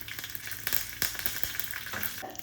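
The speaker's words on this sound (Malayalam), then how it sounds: "അപ്പം നമുക്കിതിന് വറവിട്ട് കൊടുക്കാം." Mustard seeds, dried red chillies and curry leaves crackle and sizzle in hot coconut oil for a Kerala pachadi tempering, a busy close frying hiss with sharp popping bursts and no voices.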